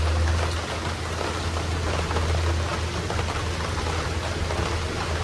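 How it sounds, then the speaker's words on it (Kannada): Heavy rain pours down steadily outside, a dense continuous hiss of drops that stays even and unbroken for the whole stretch, fairly soft in level, with a low hum underneath and no voices. "ನಿನ್ನೆಯಿಂದ ಉಂಟಲ್ಲ ಮಳೆ ನಿಲ್ಲಿಕ್ಕೆ ಕೇಳ್ತಾ ಇಲ್ಲ."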